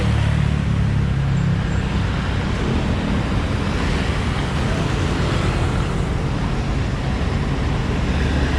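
Fast vehicles pass a busy railway level crossing near the Tanjung Barat flyover project, making a loud, continuous roar and rumble of traffic with heavy wind buffeting at the microphone.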